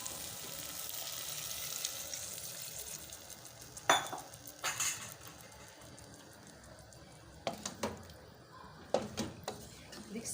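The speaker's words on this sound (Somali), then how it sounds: "waxaan kusoo darsanayaa biyo." Water is poured into a pan of frying potatoes, vegetables and meat, setting off a steady hiss and sizzle broken by several bursts of stirring and utensil scrapes against the pot.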